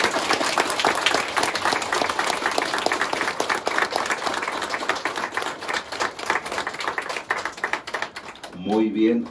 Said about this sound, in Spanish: vamos a darle un fuerte aplauso a esta joven quinceañera